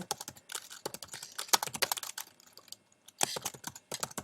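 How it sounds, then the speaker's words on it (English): Rapid clattering keystrokes on a computer keyboard while typing a page title into a Google Sites editor, close and clear with irregular bursts and brief pauses, no voices. "From here I can type in"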